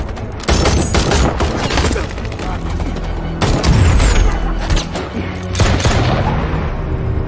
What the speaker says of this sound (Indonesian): Bishop, Sugar, dan Cooper pun melakukan baku tembak dengan para teroris yang mulai bermunculan